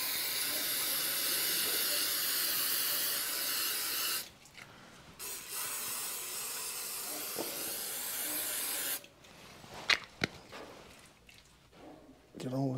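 Brake cleaner sprays in long, loud hissing bursts onto the timing chain of a Dauntless V6 engine during a timing cover install, with pauses and a few clanks between the blasts.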